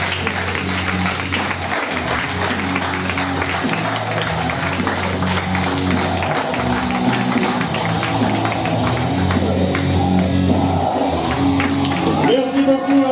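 An audience applauds at a wrestling school show during an intensive training course, with steady loud clapping and crowd noise throughout, plus loud music and an announcer talking over it.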